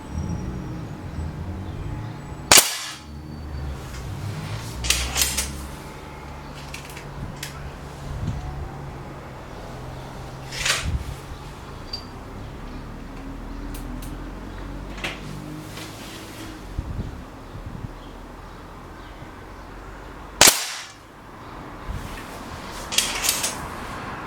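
Two sharp gunshot cracks ring out about eighteen seconds apart during target shooting, standing out loudly over a steady outdoor background with faint scattered knocks between them.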